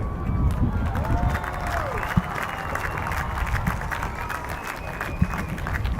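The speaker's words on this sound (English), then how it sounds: "Put your hands together and give a rousing applause for these mighty ships" Outdoor audience clapping at Navy Day celebrations on RK Beach in Vizag. A steady, broad wash of applause and crowd noise carries on for the whole stretch, with a few sharper pops standing out.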